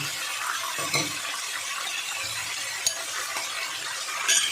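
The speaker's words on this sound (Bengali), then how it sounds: "একটু মিশিয়ে নেব, তারপরে জলটা দেবো।" Mutton being hand-mixed with ground spice paste in a bowl, soft wet squelching and stirring with a few light clinks of a dish, close and steady with no talking.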